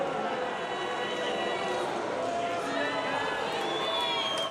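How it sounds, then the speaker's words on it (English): Audience at the Kennedy Center booing JD Vance, a dense and steady roar of crowd voices that holds at an even loudness for the whole stretch. "That boy got booed within an inch of his life"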